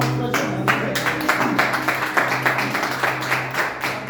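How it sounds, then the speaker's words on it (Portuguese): A church congregation claps for Jesus during a sermon, with distinct, rhythmic handclaps in an even beat over a low steady hum, fairly close and continuing for about four seconds. "aquelas palmas para Jesus"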